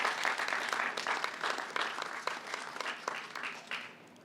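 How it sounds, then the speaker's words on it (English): Applause from the audience at a governor's press briefing before a departure flight to Poland, a steady wash of many hands clapping for over four seconds, moderately loud and fairly even, with no talk over it. "Let's give them a round of applause and thank them."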